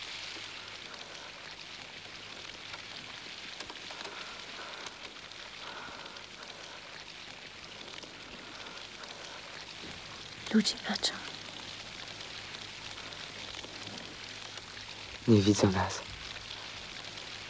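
Steady rain falls throughout as a constant hiss, with quiet whispered talk over it and a couple of brief louder rustles or bumps near the end.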